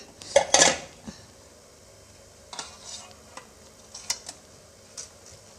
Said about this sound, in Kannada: ತಟ್ಟೆ ಇಡ್ಲಿ ಸ್ಟ್ಯಾಂಡನ್ನು ತೊಗೊಂಡ್ಬಿಟ್ಟು ನಾವೇನು ಪ್ಲೇಟಿಗೆ ಹಾಕಿಟ್ಕೊಂಡಿದ್ದೆಲ್ಲ ಪ್ಲೇಟನ್ನು ನಾನು ಹಾಕ್ಕೊಳ್ತಾ ಇದ್ದೀನಿ